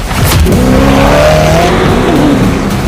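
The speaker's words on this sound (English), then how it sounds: "The reason this car is one of the fastest on the planet is because of its twin turbocharged V8 engine" A supercar with a twin-turbocharged V8 accelerates hard, its loud, steady engine roar rising in pitch and filling the whole stretch up close, with no talking over it.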